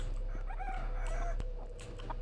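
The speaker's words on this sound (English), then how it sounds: "Now, are you normal chickens or murder chickens?" Chickens clucking in the video game HROT, a few soft fowl calls heard over a steady low game hum, fairly faint and close.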